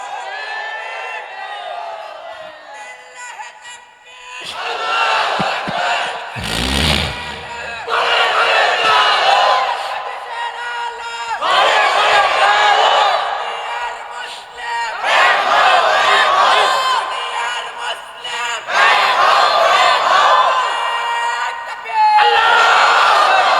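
Large crowd at a Bangla religious gathering in Rajshahi roaring a takbir chant in repeated loud surging waves, each burst of massed shouting followed by a brief lull.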